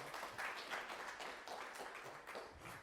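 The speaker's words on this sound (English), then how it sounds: "big round of applause for her as well" Soft applause from a small audience at a story slam event, scattered hand claps blending into a faint, uneven patter for a few seconds, with no talking over it.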